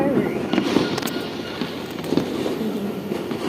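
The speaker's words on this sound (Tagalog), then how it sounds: "Oh, those are the fireworks." New Year fireworks pop and crackle at a distance in scattered bursts over a constant rumbling background, with people talking throughout.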